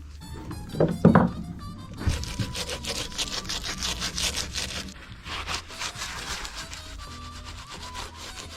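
A scraper working softened paint, loosened with cheap paint stripper, off a surface on a Dutch barge: a few hard knocks, then steady rough scraping strokes that continue alone at moderate volume.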